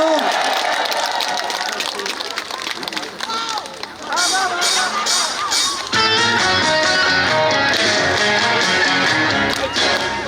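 A concert audience claps during a performance with an orchestra, the applause rising under a host's talk before the music swells in.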